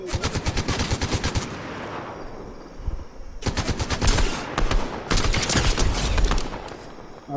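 Rapid automatic gunfire in the video game Fortnite comes in long, loud, close bursts with a brief lull in between, and no voices are heard.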